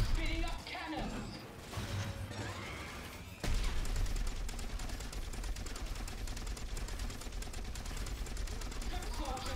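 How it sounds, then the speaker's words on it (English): Dreadnought cannons in Dawn of War III firing a dense, continuous rattling barrage amid battle noise, loud and sustained after a brief lull. "Spinning up cannons."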